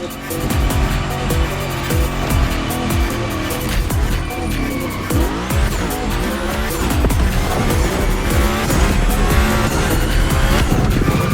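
Tires squeal continuously as a car slides and drifts through a Gymkhana course in The Crew racing game, engine roaring loud and close throughout with no pauses.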